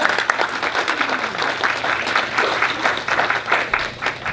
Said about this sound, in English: So please, Lorraine Aguilar, will give her a round of applause.